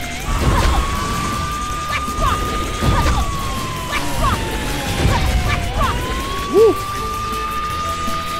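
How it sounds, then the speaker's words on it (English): In the game Astro Boy, a wailing siren tone holds steady and dips in pitch, running throughout under crashes, thuds and excited voices talking over game sounds. "please turn that siren off"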